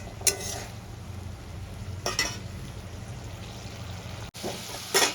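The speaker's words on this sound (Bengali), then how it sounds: "ঝোলটা আমার ফুটে গেছে, এবার আমি ভেজে রাখা মাছগুলো দিয়ে দেব।" A fish curry gravy simmers in a pan with a low, steady bubbling hiss, broken by a few short clinks and stirring scrapes near the start, middle and end.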